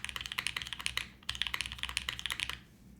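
Rapid typing on a Hex.4B mechanical keyboard, close and crisp: dense bursts of keystrokes with a short pause near the middle, then trailing off before the end.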